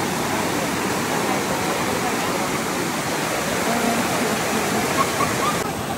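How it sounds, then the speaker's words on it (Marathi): Rushing floodwater in a flooded village pours with a dense, steady roar, close and continuous throughout, with no other sounds standing out. "चला तुम्हाला पाणी दाखवतो आमच्या गावात."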